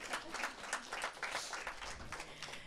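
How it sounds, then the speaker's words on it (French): An audience at a public debate on Europe applauds in a faint, sparse patter of clapping hands, somewhat distant and thin. "Vous pouvez vous applaudir."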